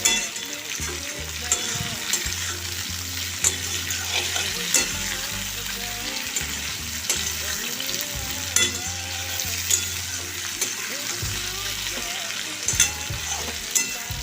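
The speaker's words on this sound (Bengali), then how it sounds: "গ্যাসের আঁচটা একটু বাড়িয়ে দেবো, দিয়ে একটু লাল করে ভেজে নেব" Jackfruit curry ingredients frying over a gas flame, a continuous close sizzle with regular scraping stirs and occasional utensil taps, no one speaking.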